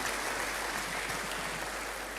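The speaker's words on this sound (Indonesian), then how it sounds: "Berikan tepuk tangan." Sustained dense clapping from a church audience, a steady broadband wash of many hands filling the whole moment without speech on top.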